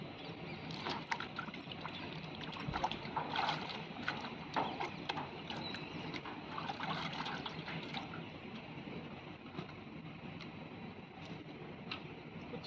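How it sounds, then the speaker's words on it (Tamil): Water splashes and sloshes steadily as a coconut is washed by hand before roasting, with continuous close wet churning and small pours and no talking. "தேங்காய் நல்லா கழுவி எடுத்துக்கலாம்."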